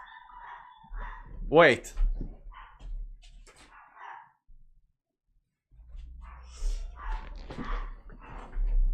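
A dog barks sharply once near the middle, with a few softer yips around it, while someone talks on both sides of the barking in an indoor setting.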